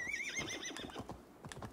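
A horse in Assassin's Creed Valhalla gives a short whinny, rising then trailing off, followed by a few soft hoof clops, fairly quiet.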